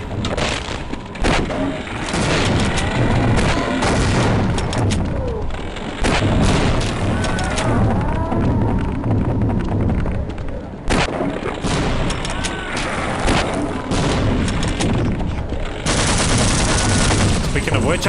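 Loud, dense gunfire and explosions in Half-Life: MMod, fought against a Xen enemy in the Xen chapters. Rapid bursts and heavy booms run almost without a break, with a few short gaps and a voice faintly mixed in.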